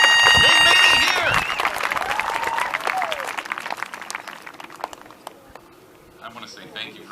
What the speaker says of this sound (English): This is the part where you give them a round of applause.